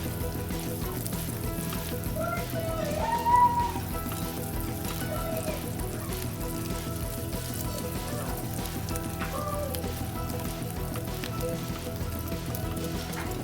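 Bacon frying in a pan, a steady dense sizzle and crackle filling the whole stretch at an even, moderate level with no one talking.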